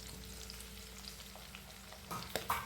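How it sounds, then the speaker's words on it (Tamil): Onion, garlic, green chili and tomato sauté in a pan for a Sankara fish curry, a soft continuous sizzle with stirring and a couple of sharper spoon clinks near the end. "எல்லாத்தையும் நல்லா வதக்கி விட்டுக்கலாங்க"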